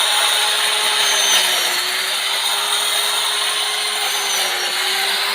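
A powered cutter slices through cassava stems in an outdoor farm setting, producing a loud, steady high-pitched whine with a constant motor drone and no break.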